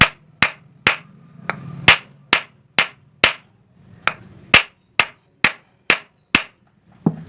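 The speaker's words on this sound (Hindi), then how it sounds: "तो इस तरह से लकड़ी की हथौड़ी लेंगे, इस तरह से हाथ में इस रेगुलेटर को पकड़ेंगे, इस तरह से ठोकेंगे" A wooden mallet taps the pin of a faulty ceiling fan regulator held in the hand, giving around sixteen sharp, dry knocks at a steady, brisk pace, close up and alone with no talking.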